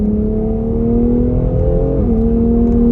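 A 2020 BMW X3M compact performance SUV on the move gives a loud steady engine drone from the cabin, and the pitch dips briefly near the middle as if shifting, then holds even again, with no talking.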